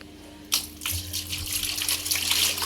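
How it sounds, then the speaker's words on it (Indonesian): Water gushing and splashing while a washing machine is being cleaned, starting abruptly and flowing steadily for a couple of seconds, close and moderately loud with no speech. "Siram sini."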